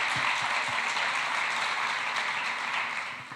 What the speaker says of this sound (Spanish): Vamos, dale ese fuerte aplauso.